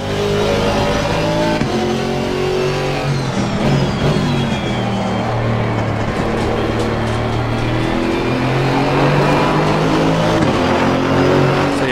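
A GT4 race car's engine revs continuously in the Assetto Corsa Competizione racing game, loud and steady throughout with rising and falling pitch as it shifts through gears, and a touch of tire noise.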